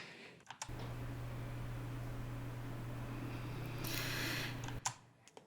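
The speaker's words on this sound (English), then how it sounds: "It's a very loud fan, and it sounds like this." A PC cooling fan's steady, loud mechanical whir with a low hum runs continuously for several seconds, then cuts off abruptly near the end.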